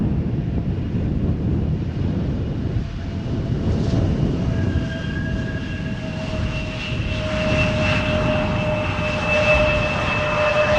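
An airliner takes off from Schiphol Airport in Amsterdam, its engines a loud, steady roar with rising whining tones, carried over constant wind buffeting the microphone, with no voices.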